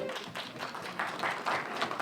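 An audience at a movie trailer launch event claps in a loose, moderately loud burst, with the applause swelling toward the end.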